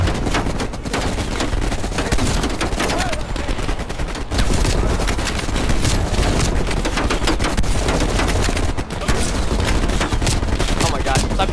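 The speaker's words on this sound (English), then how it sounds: "Stop shooting at the gun." Dense, continuous automatic gunfire from a Call of Duty Cold War match, loud bursts of rifle and machine-gun fire layered over one another with barely a pause, with players talking underneath.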